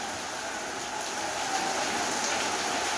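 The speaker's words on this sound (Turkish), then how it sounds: "Allah'ım hayırlı yağmurlar nasip eyle" Steady rain pours down in a dense, even hiss of drops, constant and close throughout with no pauses.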